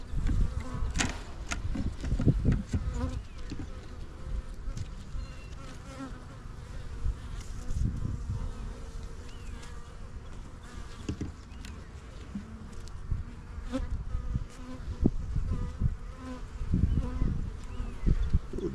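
Honeybees humming steadily in an open nucleus hive, a close, continuous low buzz with individual bees flying past, plus occasional handling knocks and rustles from working the hive.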